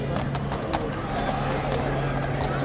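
Police horses in riot gear clip-clopping through a packed protest crowd of many thousands, hoofbeats steady under a constant loud crowd roar and chatter.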